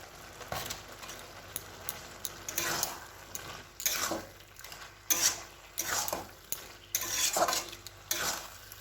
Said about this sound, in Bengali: এবার এই নারকেল পুরোটা মোচাটার মধ্যে দিয়ে দেবো